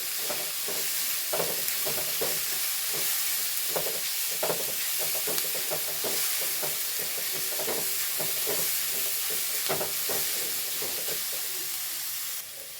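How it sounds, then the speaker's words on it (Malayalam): Grated coconut with crushed shallots and green chili sautéed in a pan: a steady soft sizzle broken by repeated rhythmic scraping strokes of the stirring spoon, close and without voices. "ഇനി ബാക്കി നാളികേരം കൂടെ ചേർത്ത് ഇതൊന്ന് നല്ലോണം വഴറ്റി കൊടുക്കാം"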